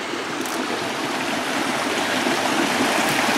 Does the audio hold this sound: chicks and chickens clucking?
no